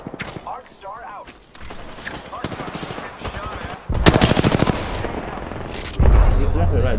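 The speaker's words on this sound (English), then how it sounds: "Taking fire!" Video game gunfire, with scattered single shots and then loud rapid automatic bursts growing nearer, while players talk over it.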